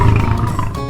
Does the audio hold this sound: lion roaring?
yes